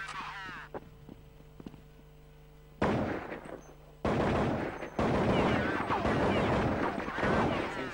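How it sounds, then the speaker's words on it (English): Gunfire in Counter-Strike 1.6, with a few faint distant shots early, then loud sustained bursts of close fire that continue to the end under a caster's fast commentary. "Shots coming in"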